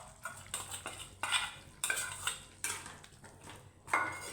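Chicken being sautéed with ground masala paste in a pan for chicken gravy, a utensil repeatedly scraping and clanking against the pan in irregular strokes, close and clear with no talk.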